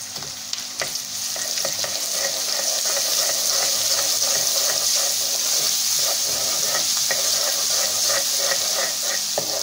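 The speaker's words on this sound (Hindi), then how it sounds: "अब इसके अंदर हम ये अदरक लहसुन का पेस्ट ऐड कर देंगे।" Ginger garlic paste sizzles in hot oil with onions while a mixed vegetable and fenugreek dish is cooked, giving a steady, loud crackling fry with repeated stirring scrapes throughout.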